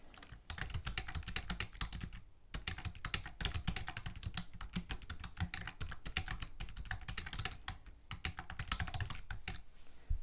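Fast, steady typing on a computer keyboard, dense clicking keystrokes close by with only a couple of brief pauses, no voices.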